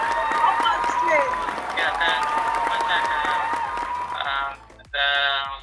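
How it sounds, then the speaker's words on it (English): An audience at a corporate fitness challenge event claps for the award winner, sustained close applause that dips briefly near the end before a last sharp burst of clapping. "Round of applause for Dr. Hani Ram, the winner of Upstairs."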